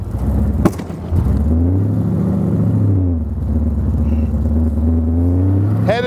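A 1932 Ford street rod rat roadster engine revs while driving, a loud close rumble rising and falling in pitch through several throttle swells, with a sharp click early on.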